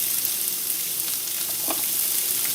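Peppers drop into a pan of browning sausages, setting off a steady, close sizzle of frying that runs evenly throughout, with a brief crackling burst near the middle.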